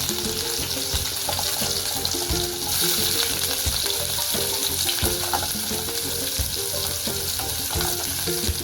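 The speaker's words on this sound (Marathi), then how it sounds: "मिरची थोडी झाली तर लगेच कांदा टाकायचा।" Green chillies and onion sizzling in hot oil in a pan for shepuchi bhaji, a continuous close crackle with repeated scrapes and taps of a spoon stirring throughout.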